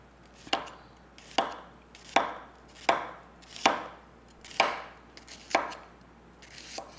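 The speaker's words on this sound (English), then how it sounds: "we're going to add garlic as needed. Now I'm slivering this also." A knife slivers garlic on a cutting board in a steady rhythm of about eight crisp, close chops, roughly one every three-quarters of a second, with no talk over them.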